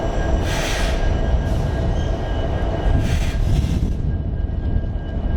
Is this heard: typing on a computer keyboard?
no